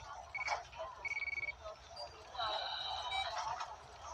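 A telephone rings in a Law and Order: Special Victims Unit TV drama scene, short electronic tones chirping in bursts beneath people talking quietly.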